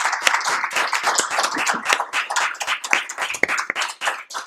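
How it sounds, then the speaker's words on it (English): Close, crisp clapping from a small audience applauding a panel at the end of an academic session on Sanskrit and Pali literature, with distinct individual claps in an uneven, lively rhythm. "a big round of applause"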